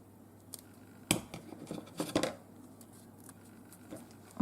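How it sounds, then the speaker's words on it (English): Scissors cutting thin craft foam, a few sharp snips and crisp close-up cuts spaced irregularly against a quiet background, with small handling rustles between them. "I'm just going to get my scissors and cut that."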